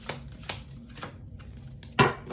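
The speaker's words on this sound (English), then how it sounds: "These people didn't pay to see me shuffle cards." Tarot cards being shuffled, a few crisp riffling snaps and slaps at close range, the loudest burst near the end.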